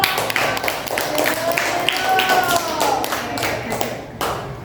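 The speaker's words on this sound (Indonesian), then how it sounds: "tepuk tangan untuk" A classroom of students claps hands together in a lively, steady burst of applause lasting a few seconds, close and fairly loud.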